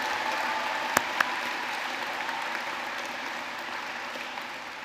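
Graduation audience at a secondary school ceremony applauding parents and educators, a steady wash of clapping throughout with a couple of sharper claps standing out early on.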